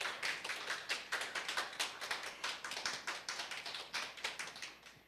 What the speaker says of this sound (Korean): 임성희 박사님께 한번 큰 박수 부탁드립니다